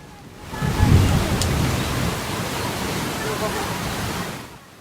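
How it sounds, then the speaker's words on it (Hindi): Heavy rain pouring down at night, a dense, loud, continuous hiss that swells and then fades out at the end. "रात को बहुत तेज बारिश होती है और वाकई नदी में बाढ़ आ जाती है।"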